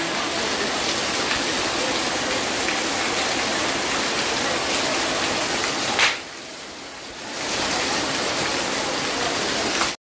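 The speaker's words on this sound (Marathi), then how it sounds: "काय मस्त पाऊस आहे ना बाहेर" Steady heavy rain hisses continuously, dipping briefly softer for about a second before returning at full strength; no talking.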